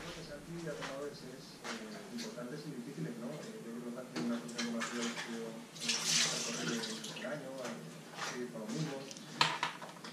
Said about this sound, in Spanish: simplemente aquí tenemos la botellita y llenamos